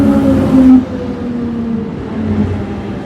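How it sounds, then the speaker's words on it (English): A train pulls into a Zurich station in the evening, a steady low rumble with brief tonal squeals and hums that ease after the first moment, fairly close and without talk. "Here comes the train."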